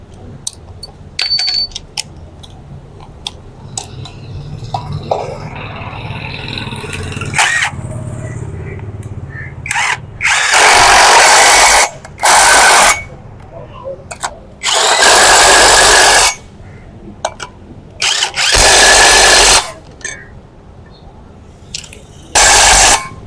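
A power tool tightens the brake hub on a Toyota Land Cruiser during a brake service in a workshop, firing in several loud, close bursts of a second or two, separated by quieter clinks and handling noises.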